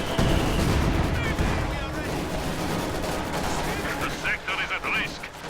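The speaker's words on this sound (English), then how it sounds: "that was a nice high explosive barrage, though, wiping out this Panzer Shrek squad" A high explosive artillery barrage in a strategy video game, with dense overlapping booms and gunfire forming a continuous loud roar, while a voice is faintly present underneath.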